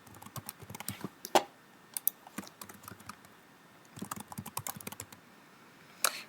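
Someone types on a computer keyboard with irregular bursts of key clicks, including a few sharper, louder strikes, and no voices.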